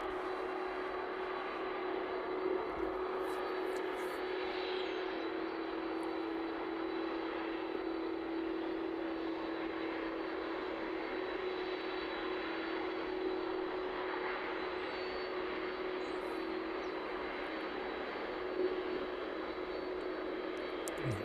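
A Boeing 747 taxiing toward the runway start at East Midlands Airport gives a steady, distant jet engine roar with a faint whine, continuous and even throughout.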